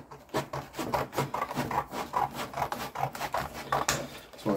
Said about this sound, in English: Cut a couple of strips